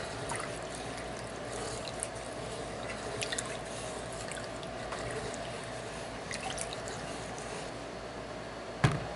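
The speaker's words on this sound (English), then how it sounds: "Let this come up to a boil." Onion gravy for smothered pork chops heats toward a boil in a pan, giving a steady soft bubbling hiss with scattered small pops and one sharper click near the end, with no voices.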